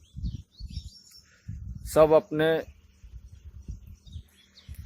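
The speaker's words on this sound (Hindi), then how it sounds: "ये छोटे छोटे जीव जंतु पंछी भी सुबह उठ के चहचहाना, इधर उधर उड़ना" Small birds chirp in the morning in two short, loud bursts of tweeting, with a person speaking before and after them.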